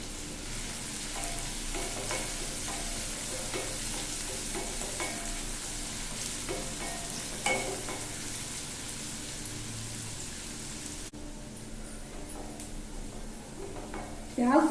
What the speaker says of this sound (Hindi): चिकन करी बनाने के लिए पहले प्याज फ्राई कर ले रहे हैं।